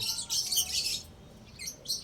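Lovebirds chirping in bursts of high, shrill tweets, several overlapping calls, with a brief lull before the chirping picks up again.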